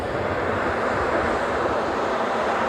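An ANA Boeing 787 Dreamliner airliner at Honolulu airport gives off a broad, steady jet roar, fairly distant and even in loudness, with no talk.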